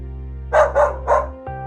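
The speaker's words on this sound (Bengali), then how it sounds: "স্টেশনের পাশে কুকুর ডাকছে।" Three quick dog barks in a row, fairly loud and close, over a steady low hum.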